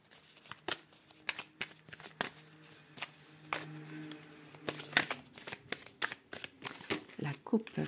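Tarot cards shuffled by hand, a rapid run of crisp riffling bursts and soft papery slaps close by, with a voice speaking over parts of it.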